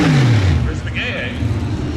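Pro Stock drag racing car at the NHRA Winternationals, an engine revving loudly with a falling pitch as it passes, mixed with crowd noise and a commentator's voice.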